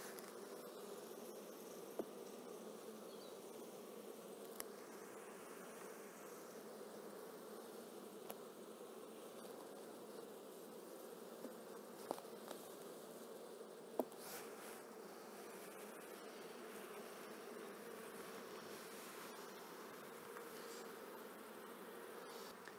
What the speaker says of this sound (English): move more bees from this hive into the split